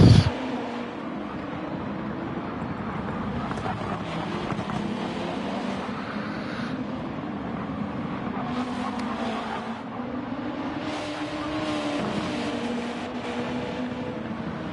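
Race cars on the final lap of a 43-lap Gr2 league race, a steady droning engine and wind-like roar holding level throughout with no distinct passes.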